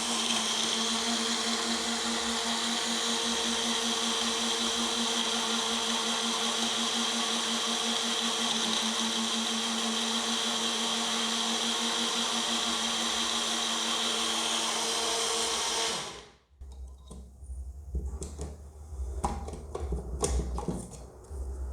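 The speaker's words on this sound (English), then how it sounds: "So now let's blend this." Blender whirring through a protein and dates shake, a loud steady motor whine and churning hum for about sixteen seconds that then cuts off abruptly, followed by quieter clattering and handling sounds.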